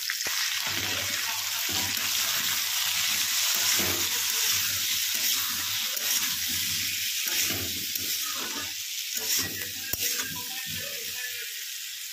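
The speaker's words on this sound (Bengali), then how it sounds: "তারপরে সেদ্ধ করে রাখা আলু আর মটরশুঁটিটা দিয়ে দিলাম, নুন হলুদ দিয়ে এগুলো একটু ভালো করে ভেজে নেব" Boiled potatoes and peas fry in oil with cumin seeds, salt and turmeric, giving a steady close sizzle that is loud and continuous, with soft stirring scrapes breaking through now and then.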